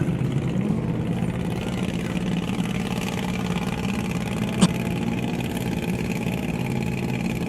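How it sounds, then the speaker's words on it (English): Steady, rumbling drone of Blake Wilkie's Volkswagen off-road race car engine during the NORRA Baja stage from La Paz to San José del Cabo, continuous and fairly loud with one brief sharp click midway. "That's the sound from Blake Wilkie's Volkswagen"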